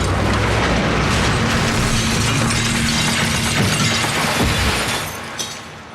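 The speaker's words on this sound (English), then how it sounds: "Metal screamed as it buckled and glass shattered everywhere." A car crash sound effect with loud shattering glass and crunching, buckling metal, dense and continuous before tailing off near the end, no voices.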